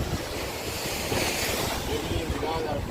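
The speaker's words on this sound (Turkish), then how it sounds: "Gelen dalgalar şaka gibi." Sea waves breaking at a holiday beach, a continuous rushing surf wash mixed with wind buffeting the microphone, steady and fairly loud throughout.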